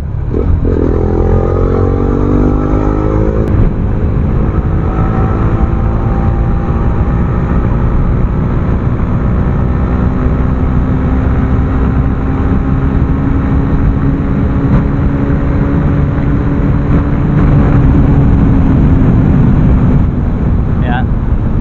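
A BMW G310GS single-cylinder motorcycle engine running while riding, a loud continuous drone with rising and falling pitch as it revs, under heavy wind rush.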